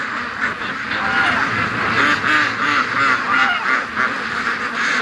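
Ducks, Muscovies among them, quack loudly and repeatedly outdoors in the wind, a dense overlapping chorus of nasal calls close by throughout.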